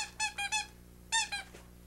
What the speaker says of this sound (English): Another squeak toy.